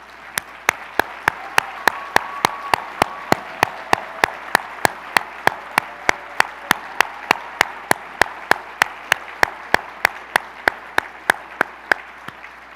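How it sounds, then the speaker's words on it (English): An audience at the Port of Long Beach's State of the Port 2024 event applauds students standing in the main aisles. The applause is a steady, even wash of many hands throughout, with regular sharp clicks repeating on top. "let's all give them a warm round of applause"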